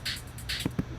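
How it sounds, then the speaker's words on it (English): Fast drum-fill hi-hats in an electronic dance remix shimmer as a quick run of bright, hissy strokes, two stronger hits standing out, with light low drum taps near the end. "and your drum fill hats."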